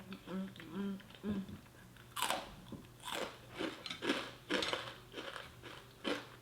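Crispy Doritos chips crunch between the teeth in a string of sharp, close bites and chews, with a few soft vocal sounds before the first bite.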